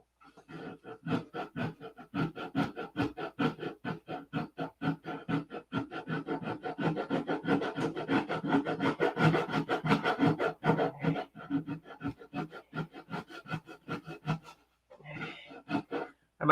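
A P-47 model is sanded by hand in fast, even back-and-forth strokes. The close rasping goes on for about fourteen seconds, then pauses briefly before a few last strokes.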